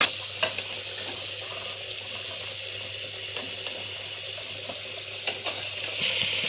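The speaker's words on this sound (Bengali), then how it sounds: "আলুগুলো এখানে ভাজা হয়ে গেছে" Potatoes frying in hot oil for a Bengali jackfruit and prawn dish make a steady close sizzle, with a few sharp clicks and clinks of a utensil against the pan.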